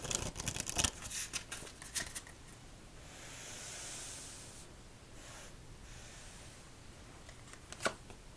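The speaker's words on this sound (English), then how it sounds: "one more shuffle for game number 4." A deck of playing cards being shuffled for a solitaire game, with several quick riffling bursts at the start, then a softer extended bridging whir and a final sharp snap, quiet and close.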